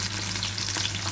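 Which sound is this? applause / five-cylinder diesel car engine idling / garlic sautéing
garlic sautéing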